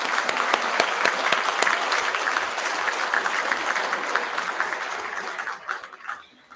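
School assembly audience at a Year 12 and 13 prize giving claps for students in a steady round of applause, individual claps distinct near the front, tapering and dying away over the last second.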